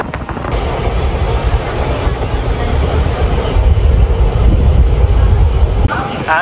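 A passenger train arriving at Tumakuru station rumbles loudly and steadily close by, with a deep rolling roar and clattering from the carriages.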